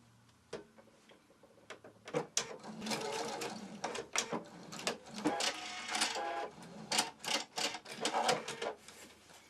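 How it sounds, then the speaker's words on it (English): Sewing machine stitching straight across a lined fabric wine bottle cover, a fast rhythmic mechanical chatter in bursts, starting faint with a few ticks and then running loud and close. "then you would stitch straight across"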